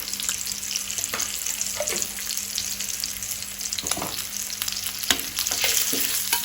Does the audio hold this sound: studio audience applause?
no